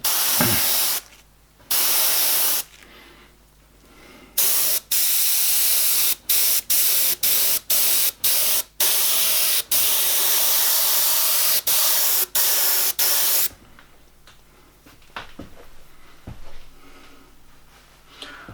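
Airbrush spraying paint on a skull design, a loud hissing spray in long bursts and many short rapid puffs, with quieter pauses between.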